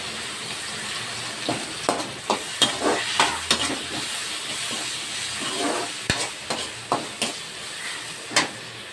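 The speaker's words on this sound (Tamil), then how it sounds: "வெங்காயத்தக்காளி நல்லா வதக்கிடுச்சு" Onion and tomato sautéing in a pan for a fish curry, with steady sizzling and a run of scraping stirs at irregular intervals, close and fairly quiet, no talk.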